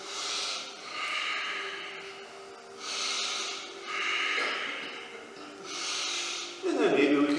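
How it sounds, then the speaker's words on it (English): Slow, deep breaths during a held yoga stretch in a class for veterans and seniors, a close, airy rhythm of long inhales and exhales repeating about every one and a half seconds, ending in a louder rush. "Holding here, deep, deep breaths."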